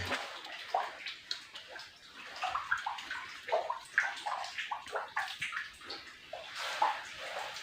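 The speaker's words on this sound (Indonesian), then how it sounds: "di situ ada resapan yang lumayan cukup deras" Water seeps and trickles steadily near a Japanese cave on a damp roadside, a close, continuous splashing and dripping with fluctuating intensity.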